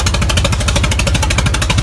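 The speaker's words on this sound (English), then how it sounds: "Right out, 106 years old, the Pioneer tractor." An antique 106-year-old Pioneer tractor engine runs steadily during an outdoor steam-and-gas show parade, giving a loud, rapid, even chugging pulse close by, with no talk over it.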